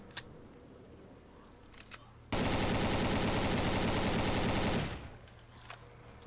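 Rapid automatic gunfire in the Zombie Panic Source video game, a loud unbroken burst of about two and a half seconds following quieter isolated clicks, then fading back to a low background.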